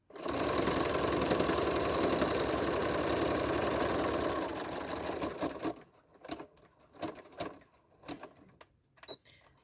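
Close and steady, a sewing machine runs continuously for about five seconds while stitching binding onto a quilt, then stops, leaving a few soft handling clicks and taps.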